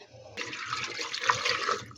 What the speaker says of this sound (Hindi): 1 ग्लास पानी डालेंगे